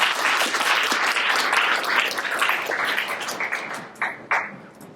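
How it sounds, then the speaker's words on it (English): An audience at a Utah clean energy policy event bursts into loud, dense applause welcoming Sarah, the clapping holding strong before thinning out into a few scattered final claps. "let's give Sarah an applause and welcome"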